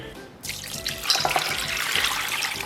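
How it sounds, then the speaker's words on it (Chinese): Beef tripe, omasum and squid are rinsed under a running tap, a steady close gush of water into a sink with splashing as the pieces are handled. "然后给它反复清洗一下。"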